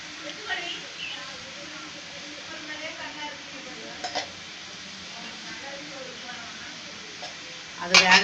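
Kai murukku frying in hot oil gives a low, steady sizzle and hiss throughout, with occasional soft clinks of a utensil and a sharper clatter near the end, while a person talks over it.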